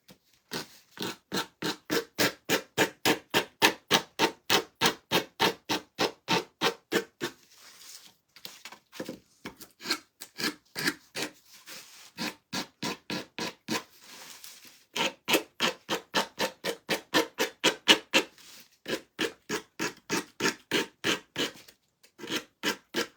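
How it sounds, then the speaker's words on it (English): Rough sandpaper rasps against wood in steady, rapid back-and-forth strokes, close and loud, with a few brief pauses between bursts. "I hate sanding things that have all these curves and little nooks."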